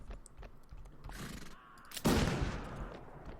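Gunfire in the video game Mount & Blade: Fire and Sword, with scattered distant shots and then one loud close blast whose roar slowly fades amid battle noise.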